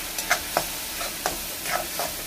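Red chili powder and Malvani masala get stirred in a hot pan, a low sizzle under five or six quick scraping strokes of a spoon, close and fairly faint.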